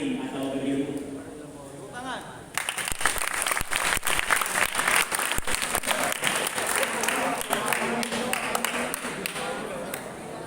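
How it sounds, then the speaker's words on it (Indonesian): Audience applause at an Islamic morning study session during a Ramadan boarding program, a dense burst of clapping that starts suddenly and continues steadily, with some voices under it. "Tepuk tangan."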